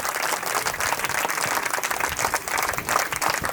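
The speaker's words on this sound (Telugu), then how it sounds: "మీ టీచర్లు అందరికీ ఒక్కసారి గట్టిగా చప్పట్లు కొట్టండి" A school audience claps for their teachers at a speech event in Sangareddy, producing steady, dense applause from many hands that stays loud and close throughout.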